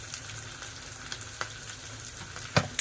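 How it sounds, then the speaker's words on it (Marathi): Curry spices for dried bombil fry in a pan with a constant sizzle and crackle. Repeated scraping and tapping of a stirring utensil runs through it, and the strokes grow louder near the end. "चांगलं परतवून घेऊया"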